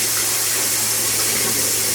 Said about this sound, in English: I'm going to set these eggs in the sink and run some cold water on them.